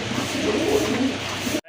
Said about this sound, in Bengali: এটা হচ্ছে রানিং একটা মাদি কবুতর